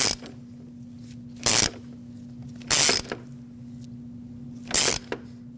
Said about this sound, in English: Put that same 24mm socket on and thread it in until it gets snug.